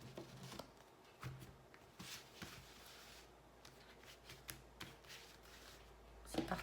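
A 32-card deck is shuffled for a card reading, with soft, faint riffling and tapping that comes in irregular bursts against a quiet room.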